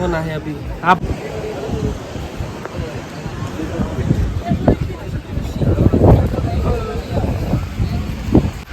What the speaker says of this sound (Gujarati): પવન છે ને જોરદાર આવે છે.